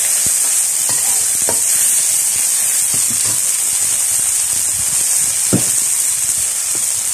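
Water added to a hot wok while stir-frying bitter gourd leaves hisses in a loud, steady sizzle throughout, with scattered spatula scrapes and clinks on top.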